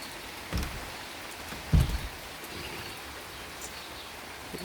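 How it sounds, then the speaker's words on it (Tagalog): Heavy rain pours steadily on a grassy lawn after hot days, making a soft, even wash of noise with two brief dull thumps. "Lakas ang ulan guys."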